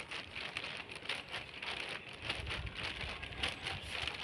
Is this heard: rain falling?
yes